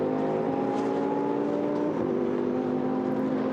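Race car engine in the GT Sport video game at Algarve, a steady sustained drone held near and loud with a slight dip in pitch partway through, as the car is balanced on the clutch to rejoin the race.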